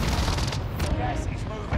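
A frag grenade goes off in a shooter video game amid a dense, loud din of booms and gunfire that fills the whole short stretch.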